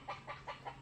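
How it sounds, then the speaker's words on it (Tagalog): Chickens being let out of their coop on a farm, clucking in four short evenly spaced bursts, close and fairly quiet over a low steady hum, with no talking. "Pinakawalan ko na yung mga manok ko."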